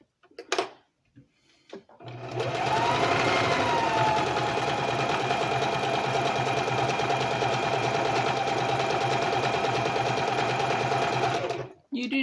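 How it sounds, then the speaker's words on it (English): A sewing machine stitches fabric in one long steady run of rapid mechanical whirring and ticking, loud and close, starting and stopping abruptly with a few brief handling knocks before it begins. "Sewing is not always in a straight line."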